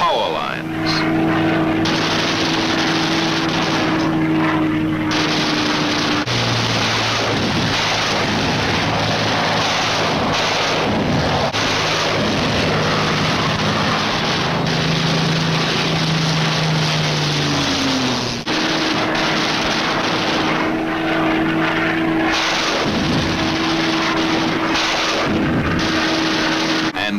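Wartime fighter aircraft streak along at maximum speed, a loud continuous propeller-engine drone with steady tonal hum and roaring broadband noise that shifts in pitch, dense throughout with no silence.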